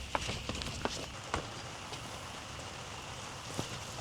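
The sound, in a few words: running footsteps outside in the rain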